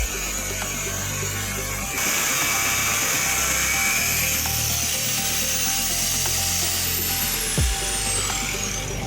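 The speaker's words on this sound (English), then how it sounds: "we're gonna use the electric grinder with a cutoff wheel, and we're gonna try to cut it" An electric grinder fitted with a cutoff wheel cuts into a 10-ounce silver bar, a loud, steady, high-pitched whine that keeps grinding without a break before a brief knock near the end.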